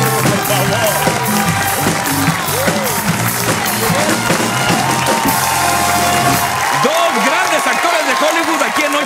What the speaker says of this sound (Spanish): Un fuerte aplauso para Kieran Deal y Samba Shoot.